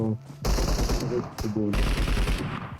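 Rapid bursts of automatic gunfire from the video game PUBG Metro Royale come in quick clusters, loud and close, with short pauses between the volleys.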